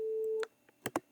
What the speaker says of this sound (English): You can make it sound like you're bleeping out bad words.